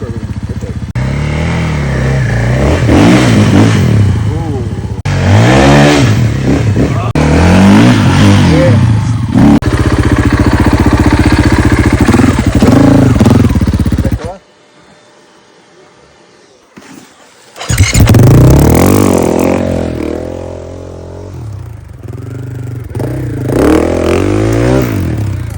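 An enduro dirt bike engine revs hard and loud on a trail, rising and falling through gears, cutting out briefly before roaring back up close to the rider.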